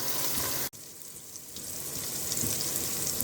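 Onions and tomatoes fry in a pan for a Nellore-style fish curry, a steady broadband sizzle with a brief dropout near the start, then continuing evenly and close.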